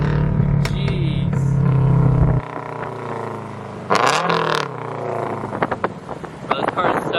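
A 2020 Subaru WRX STI engine revving on new wheels, a loud throaty roar that cuts off abruptly, followed by further rising revs and crackles with wind buffeting and people talking nearby.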